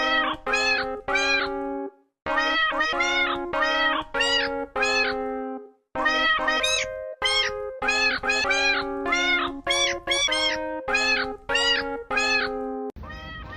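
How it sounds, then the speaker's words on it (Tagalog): A cat meows over and over, loud and close, in quick runs of short repeated calls broken by a few brief pauses. "Meow."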